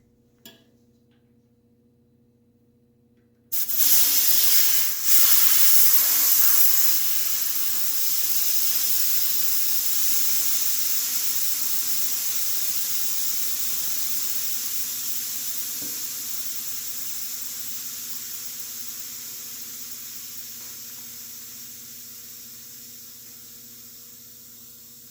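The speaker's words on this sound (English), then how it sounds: "Then we're just going to let the air out of the tire." Air rushes out of a bicycle tire's Schrader valve in a loud, close, steady hiss that starts abruptly after a quiet moment and slowly fades as the tubed tire deflates.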